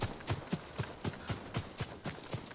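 Hooves of the horse Noble galloping in Ghost of Tsushima, a steady rhythmic clip-clop of about nine evenly spaced beats, moderately quiet and heard alone.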